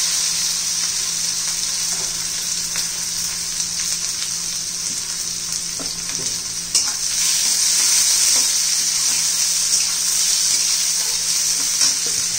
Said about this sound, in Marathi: त्यात जिरं मोहरी घालायची आहे, आपण बारीक चिरलेला लसूण पण घालायचा आहे, कांदा घालायचा आहे